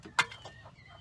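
Chickens in a backyard coop housing eight birds give a few soft, close clucks, with one sharper cluck standing out early and quieter murmurs after.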